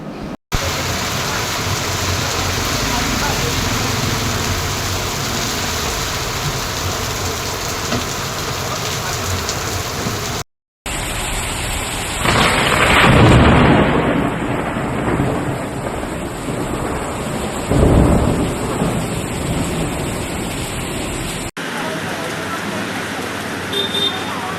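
Heavy rain pours steadily during a storm in Telangana, with a few louder swells that may be distant thunder. The roar stays dense throughout and is briefly broken by cuts between scenes.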